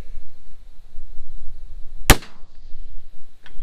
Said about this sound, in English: I'm just gonna shoot this one shot.